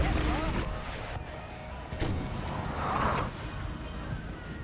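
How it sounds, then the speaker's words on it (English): Artillery fires in the video game Napoleon: Total War, with a few booming cannon shots breaking through a constant background of battle noise. "Got the Bayon artillery firing on them."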